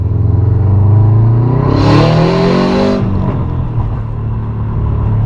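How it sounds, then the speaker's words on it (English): A Subaru WRX STI pulls hard through second gear, its engine rising in a loud, close rumbling rev with a sharp burst near the top as it backfires, then settling back. "So that was just a second gear pull. Got a nice backfire there."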